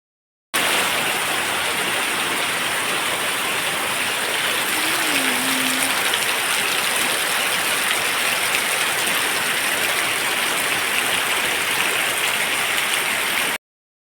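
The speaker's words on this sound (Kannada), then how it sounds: "ಜೋರು ಅಂದರೆ ಜೋರು ಮಳೆ ಇವಾಗ ಸಹ ಹನಿತಾ ಉಂಟು" Steady rain falls in a continuous hiss, with a faint chirp briefly rising above it.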